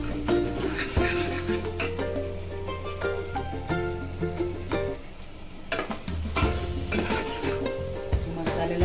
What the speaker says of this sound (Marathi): मसाला छान भाजला पाहिजे.